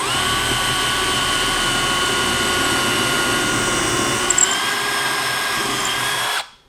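Power drill boring a hole into a wooden block in a woodworking shop, one continuous steady high whine held loud and close for several seconds before cutting off abruptly, with no voices.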